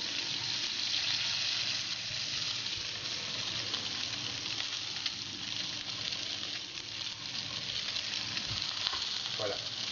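A sea bream fillet fries in olive oil in a pan, giving a steady, close sizzle that crackles on without a break, with a faint clink near the end.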